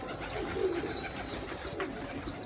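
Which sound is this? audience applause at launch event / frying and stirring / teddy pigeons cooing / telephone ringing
teddy pigeons cooing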